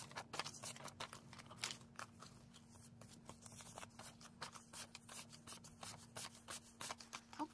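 Paper cash banknotes are handled and shuffled close up, giving a faint series of crisp crinkles, flicks and rustles in a quiet room, with no speech.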